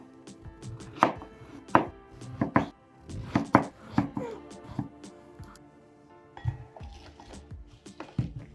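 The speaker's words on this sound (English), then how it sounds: "Cut eggplant in round shape and mix it with some salt and set aside." A knife chops eggplant into round slices on a board, landing in a series of distinct, fairly loud thuds. The cuts come in small irregular clusters separated by short pauses.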